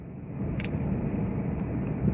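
A self-driving car rolls along a narrow, tight road, heard from inside as a steady low road and engine rumble with one brief faint clink partway through.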